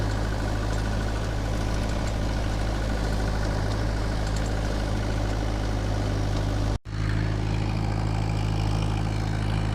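A Mahindra 575 DI tractor engine runs steadily nearby, a loud, continuous low diesel drone with a brief dropout before it resumes unchanged.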